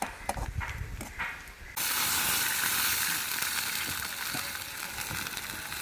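Onion hitting hot coconut oil while tempering erupts into a loud, steady sizzle after a few soft kitchen knocks, the frying hiss holding on close and continuous to the end.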